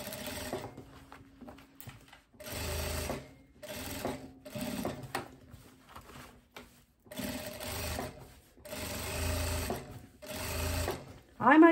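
A sewing machine stitches a seam on a women's corset vest, fixing the stitching to the inside, in several short rattling runs separated by pauses, while someone talks between and over the bursts.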